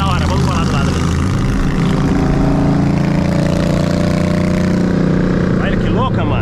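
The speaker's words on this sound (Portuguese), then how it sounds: "Olha as motocas que da hora." A group of motorcycles rumbles past nearby, a steady loud engine drone with shifting pitch throughout, while people talk over it.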